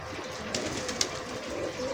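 Lahori pigeons in Sialkot, Pakistan, cooing softly and steadily against a low, constant background hum, with a few faint brighter calls breaking through.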